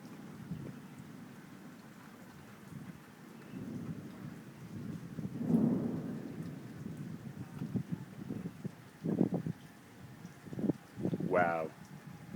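Thunderstorm rolling past as a tornado nears, with steady rain and low rumbling thunder throughout, a louder crack of thunder midway, and people talking briefly near the end.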